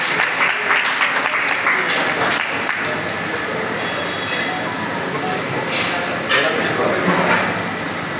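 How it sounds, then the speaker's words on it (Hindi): Audience applause for a general secretary at a gathering, loud sustained clapping from a crowd that swells and holds for several seconds, with scattered voices mixed in. "एक बार जोरदार ताली से स्वागत करेंगे आप।"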